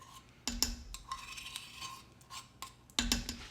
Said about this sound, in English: Add all that creaminess in there, and you just want to mix it well together just like the cream cheese